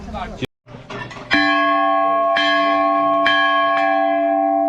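Bells ring at the Golju temple in Ghorakhal, Nainital, during the holy month of Sawan, with repeated metallic strikes and long sustained ringing overtones, loud and close, following brief background chatter.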